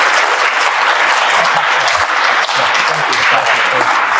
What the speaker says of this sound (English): Let's clap here.